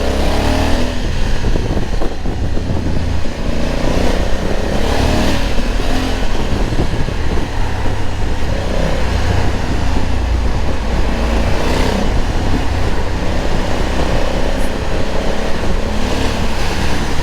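A Honda Africa Twin 1100 motorcycle runs loud and close, its engine droning and rising under acceleration, with heavy rushing wind noise on the ring road covering the whole stretch.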